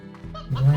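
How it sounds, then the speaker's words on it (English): Chickens cluck in the video game Slime Rancher, a short burst of close, rising fowl calls lasting under a second with no talk. "Let's grab a bunch of chickens for sacrifice purposes."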